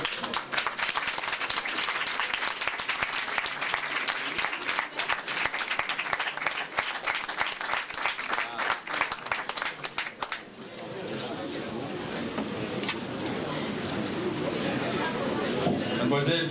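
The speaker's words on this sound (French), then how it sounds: "On va l'applaudir quand elle va rentrer." Audience at the Prix Jean Gabin 1992 ceremony at Fouquet's in Paris applauds loudly and steadily as an award winner enters, the dense clapping filling the room for about ten seconds before settling into a softer crowd murmur.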